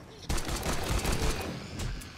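Gunfire in the survival video game 7 Days to Die, a loud sudden burst of rapid shots that continues densely to the end, with no speech over it.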